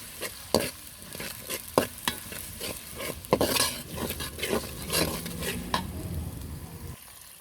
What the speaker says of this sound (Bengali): এই যে আমি পেঁয়াজগুলো ভালো করে কষিয়ে নিচ্ছি